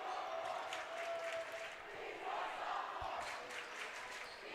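A packed gym crowd chants rhythmically at a high school varsity basketball game between Portage Central and Portage Northern, a steady, dense roar of voices rising and falling throughout.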